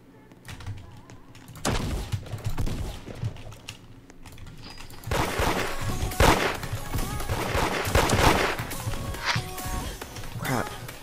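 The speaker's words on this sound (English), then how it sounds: "Oh, he's wall shooting." Gunfire from a Rev revolver in the Da Hood video game, fired through a wall, heard as clusters of sharp, clicky shots, sparse at first and then thicker and louder in the second half.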